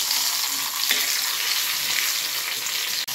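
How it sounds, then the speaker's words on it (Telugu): Steady crackling sizzle of tempering spices frying in hot oil for mango dal, loud and close, continuous for a few seconds with one brief drop at the end. "ఇంకా పప్పు తాలింపు పెట్టేస్తున్నా"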